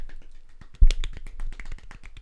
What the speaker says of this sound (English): can we do a quick golf clap?